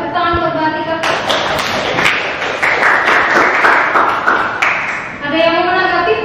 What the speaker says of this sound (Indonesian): Tepuk tangan buat Mbak Tika.